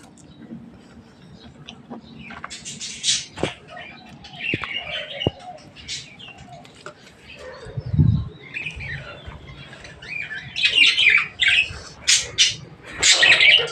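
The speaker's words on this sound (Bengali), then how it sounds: "পাখিগুলো কিচির কিচির করেই যাচ্ছে।" Birds chirp and squawk repeatedly around a home after a rainstorm, with wings flapping now and then, the calls growing busier and louder toward the end, and a brief low thump in the middle.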